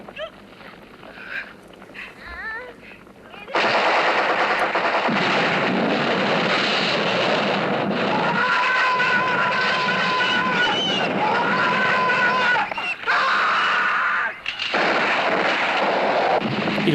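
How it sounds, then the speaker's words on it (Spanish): War film combat scene: sustained, dense machine gun and artillery fire roars loudly and continuously, with rapid bursts layered over a thick rumbling barrage after a quieter opening. "Y la crudeza de los combates."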